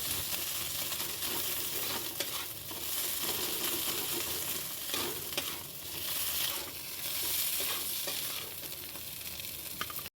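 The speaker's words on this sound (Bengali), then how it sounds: "তারপর আবার কিছুক্ষণ ধরে নেড়ে যখন হালকা একদম লাল হয়ে আসবে তখন এটাকে আমরা তুলে নেব।" Kankrol (spiny gourd) stuffing with poppy seed paste frying in a pan, a dense, continuous sizzle with steady scraping and stirring strokes throughout, close and constant.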